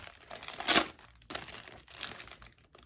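Plastic packaging bags bought from Amazon crinkle and rustle up close, with a sharp louder crackle early on followed by softer, uneven handling noises and no talking.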